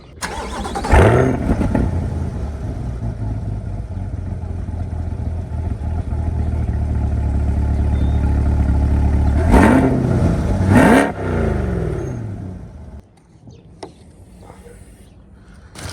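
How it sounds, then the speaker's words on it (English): A C8 Corvette with its stock exhaust fires up from cold with a sharp rev flare, then settles into a loud, steady idle rumble. A second pair of throttle blips follows before the engine shuts off and goes quiet. "Let's go ahead and do a cold start real quick just so you guys can see what it sounds like with the stock exhaust."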